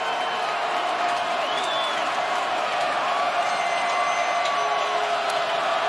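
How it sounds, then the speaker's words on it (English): Steady, dense roar of a stadium crowd at a Baltimore Ravens versus Cincinnati Bengals NFL game in Baltimore, a continuous wash of distant cheering and murmur with no clear breaks. "Did a pretty good job handling the crowd noise here in Baltimore."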